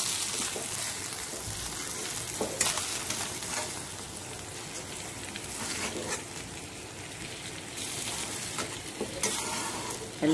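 Anjal fish frying on a tawa, a steady close sizzle of oil with occasional stirring scrapes and sharper spatter bursts running throughout, no voices.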